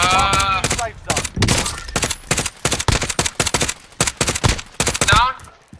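Gunfire in a video game, rapid cracking shots in several bursts, loud and close, with a player talking over them.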